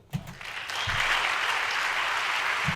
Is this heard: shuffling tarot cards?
no